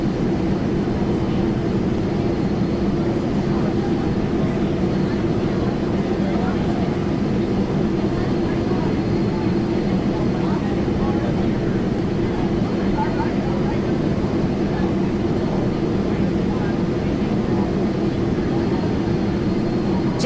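A propeller airplane engine in a flight simulator game drones steadily and loudly throughout, a continuous low hum with a voice talking over it at times.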